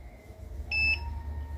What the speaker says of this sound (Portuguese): Fazer aqui o teste aqui para ver se tá bipando essa linha aqui